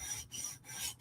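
A knife blade being drawn across a low-grit sharpening stone while sharpening a Hinderer knife, a close steady abrasive rasp in three strokes with brief pauses between them.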